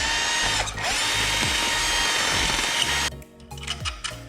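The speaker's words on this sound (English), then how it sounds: "So I'm just going to go ahead and drill that out." Power drill with a 5/16 bit boring out a bolt hole for an LED light pod on a 2021 Yamaha TW200, a loud continuous whine close by for about three seconds, then stopping with a few brief bursts and mechanical clicks.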